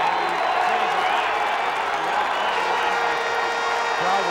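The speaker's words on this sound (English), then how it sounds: "Crowd was not happy with the spot" High school football crowd in a stadium voicing displeasure at a ball spot, a loud continuous roar of many voices with scattered shouts, steady throughout.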